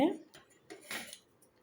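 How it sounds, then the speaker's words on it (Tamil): Scissors snip through doll dress fabric in a few short, close crisp cuts with quiet gaps between them, and a voice is heard briefly at the start. "எப்படி கட் பண்ணுறேன்."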